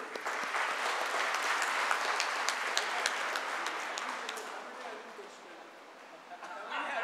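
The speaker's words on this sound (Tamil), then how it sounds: "இதுக்கு ஒரு ஜோரான கைத்தட்டல்." Audience applause at a business convention in India, following a governor's sung and humorous remarks; steady, fairly dense clapping that tapers slightly toward the end, with some crowd voices mixed in.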